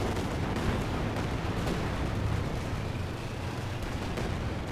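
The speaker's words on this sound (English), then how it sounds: "We have Katyusha fire coming in." Katyusha rocket artillery in the war game Company of Heroes 2 rumbles as a dense, continuous barrage of booming impacts and crackling blasts. The bombardment sounds close and heavy and runs with no speech over it.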